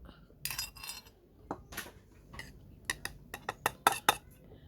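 Chilies being pounded in a mortar for a vegan Thai som tam, a series of quick clacking knocks. They start sparse and build into a faster, sharper rhythm near the end, close and fairly quiet.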